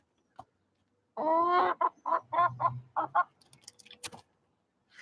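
Hen clucking in a backyard chicken coop near where eggs are laid, a rising run of several close, loud clucks and squawks followed by fainter scratchy rustling.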